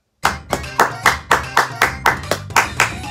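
A single person claps about ten times in a quick, even rhythm, each crisp hand slap close and loud, with nothing else around it.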